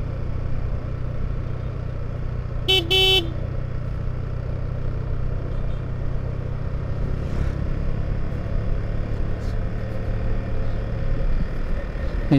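A vehicle engine drones steadily under heavy load while descending a hill road toward Bandarban. A low rumble runs throughout, with a short burst of high beeps early on.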